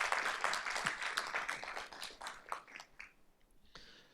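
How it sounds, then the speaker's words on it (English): Applause from the audience at a Board of Trustees workshop meeting, a burst of clapping that starts fairly full, thins out and tapers off over about four seconds, with a few late claps. "Can we give these folks a round of applause?"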